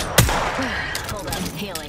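Enemy gunfire in the Apex Legends video game, a loud burst of shots near the start followed by scattered, continuing fire and game noise.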